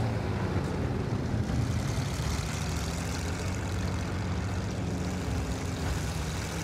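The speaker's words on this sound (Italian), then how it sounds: "C'è un aereo, occhio! Visto? È un aereo nemico!" An enemy aircraft in Battlefield 1, its engine drone a steady, fairly loud hum that fills the whole stretch alongside battle ambience, with no talking.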